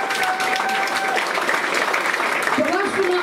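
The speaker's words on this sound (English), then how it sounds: "give yourself a round of applause" An audience at the Who at Hilbre 2015 event gives a round of applause, steady crowd clapping with a voice speaking over it and a few whistles, near and moderately loud.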